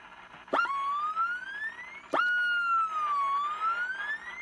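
Siren sound effect from a Tweety Bird CB radio accessory: two rising electronic wails, each opening with a sharp click and sweeping steadily upward, loud and close, with no talking.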